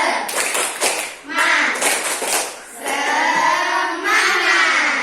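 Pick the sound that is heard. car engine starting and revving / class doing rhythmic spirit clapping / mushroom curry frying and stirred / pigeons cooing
class doing rhythmic spirit clapping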